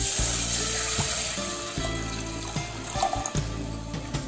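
Water pours steadily into kadhi, a gram-flour and yogurt curry, in a pan, making a continuous splashing rush for several seconds with small clinks and stirring knocks underneath.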